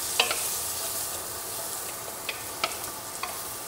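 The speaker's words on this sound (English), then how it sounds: "A little garlic. A little bit of onions. Just saute this around." Garlic and onions sauté in a pan with a soft, steady sizzle, broken by a few sharp clicks and scrapes as they are stirred around; no one talks.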